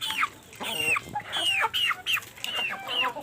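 Free-range chickens cluck in a rapid string of sharp, rising-and-falling calls, close and fairly loud, with a few overlapping birds on a farm and no talk.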